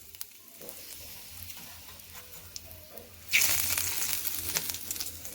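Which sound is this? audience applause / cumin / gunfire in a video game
cumin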